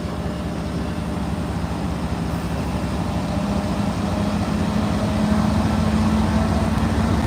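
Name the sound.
loud commuter rail locomotive engines revving at station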